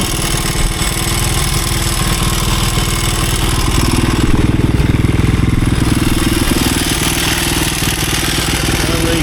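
A 1983 Honda XR200R dirt bike runs again after years of sitting, its single-cylinder engine putting out a loud, close, steady rapid thump with a rough clattering edge that holds throughout.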